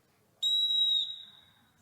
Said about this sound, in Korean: 호루라기입니다.